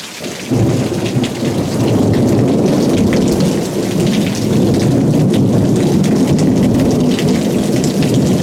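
Heavy July rain pours down steadily, loud and close, with low rumbling thunder rolling underneath throughout.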